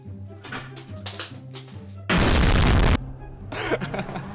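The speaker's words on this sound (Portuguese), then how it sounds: "Você explodiu bem na linha de chegada?" Bomb blast in GTA V, a sudden loud booming burst lasting under a second that cuts through ongoing game sounds and voices.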